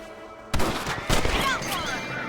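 Rifle shots crack out in Red Dead Redemption, two sharp loud reports about half a second apart followed by echoing tails, with game voices and ambience over the gunfire.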